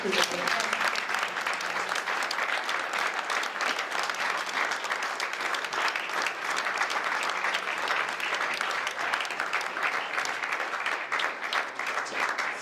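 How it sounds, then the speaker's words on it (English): A large audience at a panel event claps in a sustained, even round of applause that holds at a constant loud level from start to finish, with no voices rising above it. "can we give a massive round of applause?"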